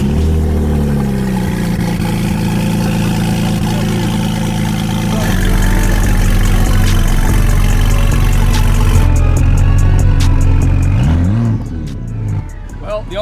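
A BMW 335 with no exhaust fitted, running loud and steady near a house with close neighbors, a heavy low rumble holding throughout and rising slightly midway before easing near the end.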